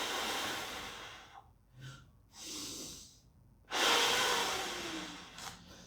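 Slow, deep breaths during a plank core exercise, a long hissing exhale followed by shorter breathy inhales and a strong final breath out, close and loud with no talking.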